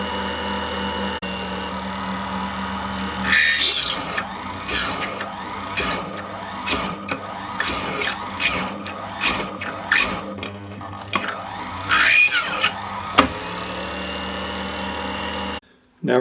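A rotary burr grinds into metal while a gypsy stone setting is cut, giving a string of short, sharp whirring bursts with brief pauses between them, close and fairly loud over a steady low motor hum.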